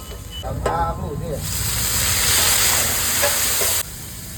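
Garlic cloves dropped into hot oil for Gujarati olo at a long-running Bhavnagar eatery, a loud steady sizzle swelling and hissing for a few seconds, with a voice talking at the start.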